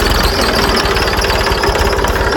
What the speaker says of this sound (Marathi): ट्रॅक्टर नेमकं चालू झालं